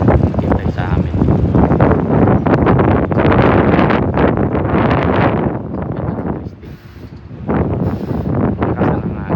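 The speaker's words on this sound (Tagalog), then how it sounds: "Malakas ang hangin, malamig siya." Strong wind in Trieste, Italy buffets the microphone with loud, continuous roaring gusts that ease briefly before surging again.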